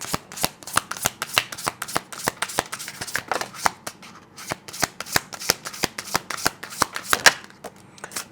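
Tarot or oracle cards shuffled by hand in a quiet room, a steady run of crisp riffling snaps repeating roughly every third of a second, close and clear with no talking.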